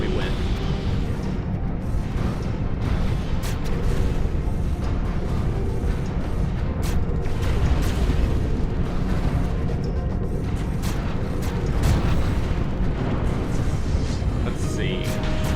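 Space battle in the strategy game Stellaris with six battleships engaging an enemy fleet, a continuous dense rumble of booming weapon fire and crashing impacts that stays loud throughout without pause.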